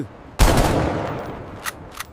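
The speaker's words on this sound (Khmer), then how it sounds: "ឆាប់បាញ់ពួកគេទៅ" Gunfire in the battle-royale game Free Fire: a sharp, loud burst opens and decays into a sustained rattling wash, followed by two quicker distant shots.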